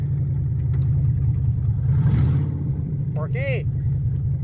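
A vehicle engine with a bad fuel pump idles and runs under light throttle, a steady low drone close by throughout, with a voice speaking briefly near the end.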